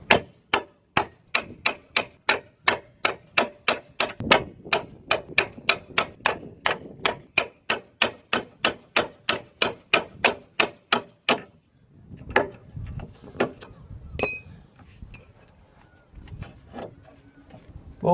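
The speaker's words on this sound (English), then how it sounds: "give this end a hammer, and what it should do in theory is knock the top of the ball joint out of the socket in this hub" A hammer strikes the hub of a Ford Fiesta Mk7 to knock the ball joint free, about thirty sharp metallic blows in an even rhythm that then break into scattered, irregular knocks and clatter.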